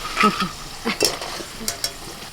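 Chopped ginger and garlic dropped into a little hot oil in a wok, brief crackling sizzles and stirring scrapes, with a short vocal sound near the start.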